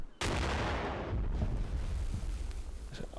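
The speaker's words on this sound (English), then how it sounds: "It's just constant secondaries going off of these tanks. Or secondary explosions. So, some small arms fire." Small arms fire crackles over rumbling secondary explosions from burning tanks in the Cold War tactics game Combat Mission, a loud, dense and continuous barrage of booms and pops that starts abruptly and never lets up.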